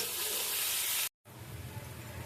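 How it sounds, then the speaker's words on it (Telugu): Onions fry in a pan with a steady, close sizzle and hiss. A brief cut of silence splits the clip, and afterward the frying continues slightly quieter with some stirring. "ఇప్పుడు దీంట్లో ఉల్లిపాయలు వేసి వేపుతున్నాను మంచి టేస్ట్ కోసం."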